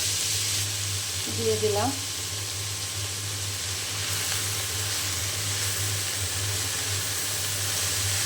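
Drumstick leaves (sajne shak) fry in a pan with a steady, close sizzling hiss that holds throughout, while a voice briefly speaks near the start.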